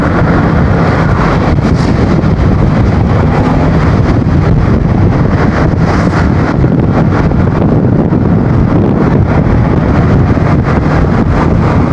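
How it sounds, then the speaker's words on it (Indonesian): Strong wind buffets the microphone while riding a Yamaha XMAX scooter on the road, a loud, constant roaring rumble that never lets up. "Anginnya gede banget ya Allah."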